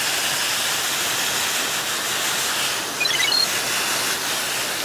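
Steady hissing water spray washing the roots of an orchid plant, loud and close, a continuous broadband rush with a brief spatter partway through.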